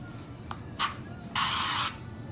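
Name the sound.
makeup setting spray sprayed on hand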